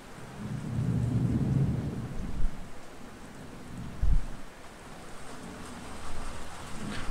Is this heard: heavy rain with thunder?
yes